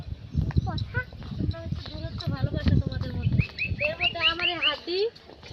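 Small birds chirp and tweet in Soula Park, their short repeated calls growing clearer toward the end, under close conversation and other park noise.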